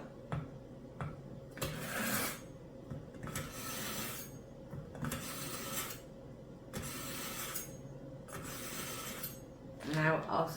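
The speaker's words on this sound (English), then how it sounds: "we always start with sharpening. So I've got my knife sharpener." A kitchen knife is drawn through a handheld knife sharpener in several rhythmic, raspy strokes, each a short grinding swipe, close and fairly quiet, with small clicks between passes.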